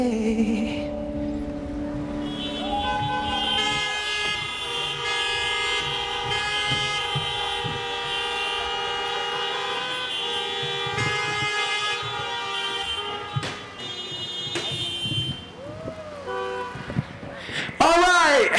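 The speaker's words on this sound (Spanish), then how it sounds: "Come on, un poco de claxon." Many car horns blare together at a drive-in concert in Puebla, a dense, sustained chorus of overlapping tones with a few sharper blasts near the end.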